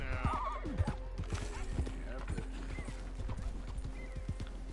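Horse hooves clip-clop steadily on the ground in Red Dead Redemption 2, a close, regular trotting rhythm with a brief whinny near the start, under a low continuous hum.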